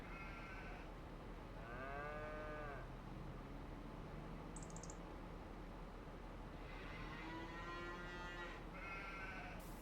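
Cows moo in a Farming Simulator 25 farm scene, with several drawn-out lowing calls, some overlapping, heard faintly over a steady hiss and rumble.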